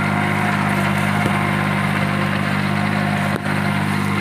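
A Swaraj Target 630 tractor running a rotavator in medium first gear, a loud, steady engine drone with a constant low hum and a couple of brief knocks, with no talking.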